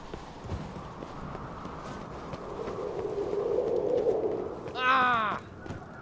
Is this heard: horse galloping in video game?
yes